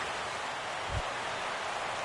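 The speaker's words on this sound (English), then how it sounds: "Rain coming down here in San Francisco's China Basin as we're at AT&T Park" Steady broadband hiss of rain pouring over a ballpark in a baseball video game at AT&T Park in San Francisco's China Basin, a constant wash with one brief low thump near the middle.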